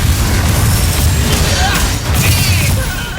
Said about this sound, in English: the booming, unearthly explosions your abilities produce, is all crisp with decent audio separation